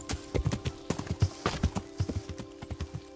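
Quick, even clip-clop of horse hooves trotting at a brisk rhythm, close and clear with no talking, in the video game Kingdom Come: Deliverance.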